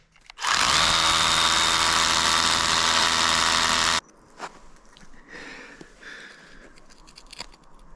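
A power drill bores a new bolt hole into rock while rebolting a climbing route, a loud steady whine running for about three and a half seconds before cutting off, followed by quieter scraping and clanking of gear.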